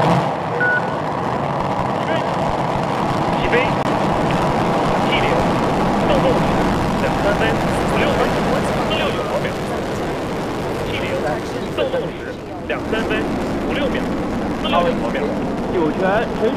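Ignition and liftoff of a Long March rocket launching the Shenzhou 13 crew, a continuous loud rumbling roar heard at a distance, with people talking over it.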